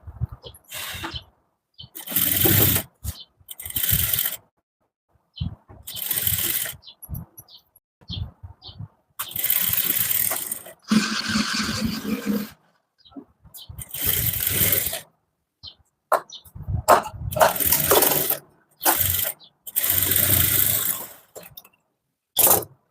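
A sewing machine stitches a halter neck blouse in repeated short bursts of mechanical whirring, each separated by brief silent pauses, close and moderately loud.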